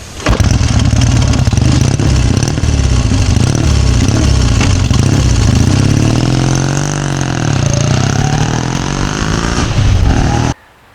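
A 1957 Douglas Dragonfly motorcycle engine runs loud and close, sputtering to life and idling with a few revs rising and falling before it cuts off abruptly near the end.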